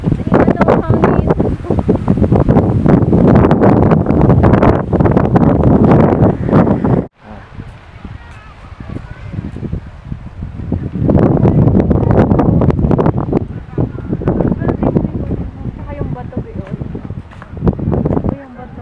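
Strong wind gusts roar across the microphone in a park in Taif, Saudi Arabia, loud and buffeting with a short lull midway before surging again, with a voice speaking faintly underneath.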